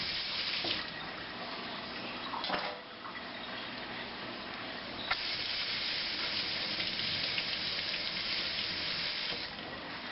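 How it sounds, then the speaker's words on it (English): Organic carrots are washed under a running kitchen tap, a steady hiss of flowing water splashing into the sink for the whole stretch, close and fairly loud, with brief interruptions. "I wash the carrots."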